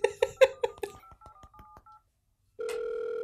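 A telephone keypad dialing a long-distance number: about five loud, evenly spaced tones, then a quicker run of fainter beeps, a short silence, and a steady tone that starts and holds to the end.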